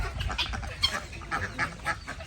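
White geese, white rabbits and mixed white ducks roam free on a farm near Chalakudy, with a flock quacking and honking in overlapping bursts nearby, fairly soft and without talk.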